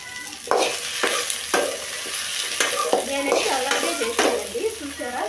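Okra (ladies' finger) for a roti pachadi sizzles steadily in a pan while a spatula stirs and scrapes it in regular strokes about once a second, close by.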